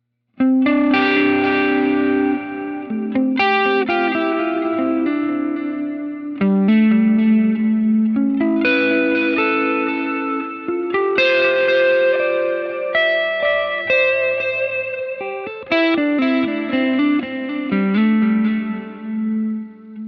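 Electric guitar run through a Line 6 Helix Heliosphere delay blended with reverb, ringing chord and note phrases repeating and smearing into long echoing tails, loud and continuous throughout, with no talking.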